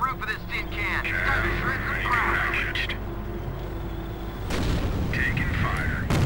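Gunfire and explosive booms rumble through a World War II Normandy battle in Company of Heroes, a dense, continuous barrage with heavy low blasts, mixed under shouted soldier voices and a louder burst near the end.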